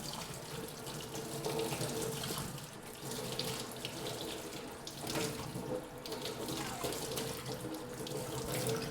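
Hot water pours from a tap over a pheasant tail being rinsed during taxidermy, a continuous close splashing stream that wavers slightly as the tail moves under it.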